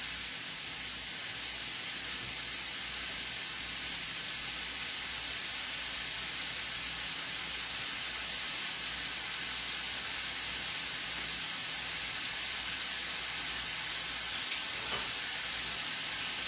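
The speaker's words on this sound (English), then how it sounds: "See that? You hear that? Sizzle?" Seasoned steak medallions sizzling in a hot pan for Steak Diane, a continuous bright crackling hiss that stays steady and close throughout, with no voices over it.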